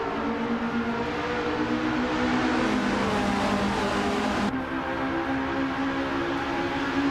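Race cars in a racing video game roar away from the start line, including a 1979 Estonia 20 in the Formula 1300 class, as a steady engine drone whose pitch jumps with gear changes, at moderate volume with no talk.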